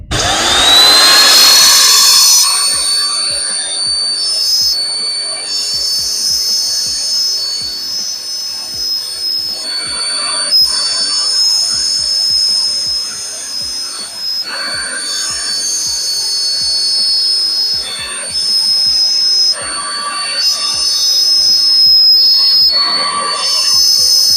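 A loud wood router screams steadily as it cuts a square opening guided by a jig, a sustained high-pitched whine with brief dips and surges as the bit moves through the wood, heard alone without talk.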